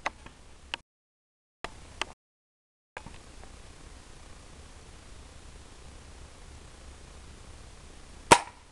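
A Hatsan air rifle fires at a mango on the tree, knocking the fruit off at the stalk: quiet background hiss with a few faint clicks, then one sharp, loud crack near the end.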